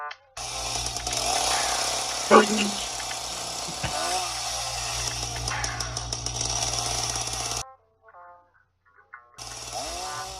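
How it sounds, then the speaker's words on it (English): Chainsaw engine in the Judge Dredd video game, droning steadily and loudly for about eight seconds with a sharp revving burst partway through, then cutting out, followed by brief quiet effects. "Drop the chainsaw."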